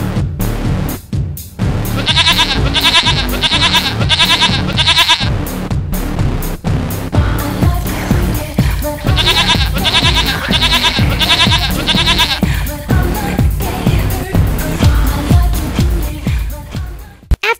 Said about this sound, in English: Coco and Claire were the first goats ever to use it, and here is their footage